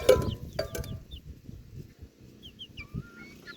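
Chickens cluck and call in a short, irregular series of sharp notes, close and moderately loud, with a few higher chirps scattered through the later part.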